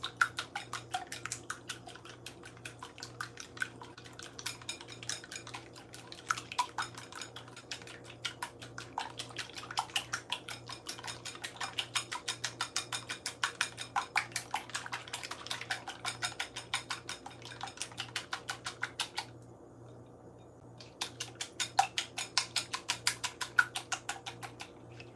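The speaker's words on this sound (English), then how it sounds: "So I'll use a plastic whisk." A plastic whisk beats egg mixture in a bowl for an omelette pizza crust, producing rapid, even clicking and tapping strokes that run continuously, pause briefly, then resume at the same brisk pace.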